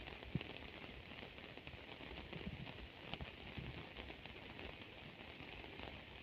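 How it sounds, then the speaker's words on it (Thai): Rain falls steadily in a rural village, a soft continuous patter on surfaces with occasional louder drips, even and fairly quiet throughout. "ฝนตกแล้วค่ะ"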